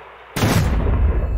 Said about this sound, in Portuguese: Saca só esse disparo, rapaz.